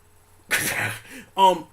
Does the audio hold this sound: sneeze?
yes